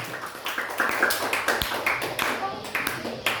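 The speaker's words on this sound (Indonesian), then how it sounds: "tepuk tangan dulu untuk kita semua" Contestants and audience at a Qur'anic knowledge quiz competition clap together, distinct rhythmic claps in a fairly small group, close and moderately loud, with some voices mixed in.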